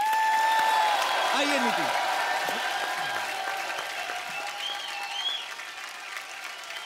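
A studio audience on The Kapil Sharma Show, a Hindi comedy talk show, claps loudly and steadily. The applause fades slightly over several seconds while a host speaks over it.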